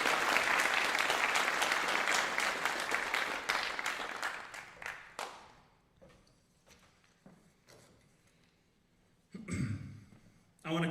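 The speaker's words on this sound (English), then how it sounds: "Can we give Margaret another round of applause as she exits the stage?" Loud applause from a graduation ceremony audience fills the first five seconds, then stops abruptly, leaving faint scattered claps and room noise before a short spoken phrase near the end.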